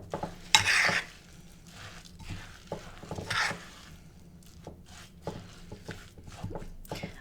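Peanut butter cookie dough gets stirred in a bowl, with soft scraping and thudding strokes in an irregular rhythm, quiet and close, with a couple of sharper knocks against the bowl.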